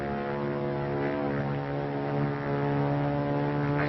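A propeller-driven fighter plane drones steadily in flight during World War II, its engine a continuous low hum with layered harmonics, fairly distant and unchanging throughout.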